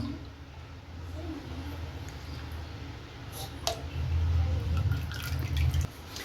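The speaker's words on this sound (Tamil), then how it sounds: "காய்ச்சி வடிகட்டி வச்சுருக்க கருப்பட்டியும் இதிலே சேர்த்துடலாம்" Strained palm jaggery syrup is poured into a coconut mixture for Sri Lankan karupatti dodol halwa, making a steady liquid splashing and dripping stream up close that swells louder toward the end.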